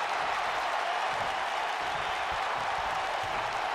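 Wrestling arena crowd in a WWE 2K game, a dense, steady roar of cheering and noise that holds at an even, loud level throughout with no distinct voices standing out.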